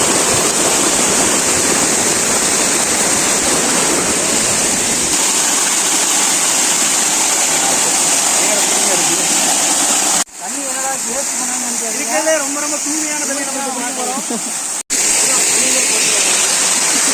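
Water rushes steadily through a mountain canal in the Kolli Hills, a loud, continuous close roar with someone speaking over it partway through.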